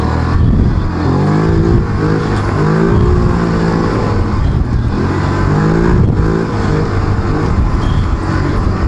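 A quad ATV engine revs on a dirt trail near Oliver, British Columbia, rising and falling in repeated throttle sweeps, loud and close throughout with no talking.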